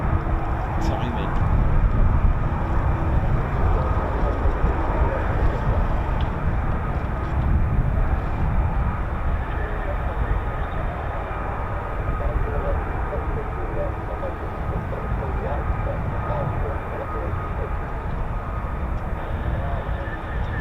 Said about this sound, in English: Vertical landing coming up.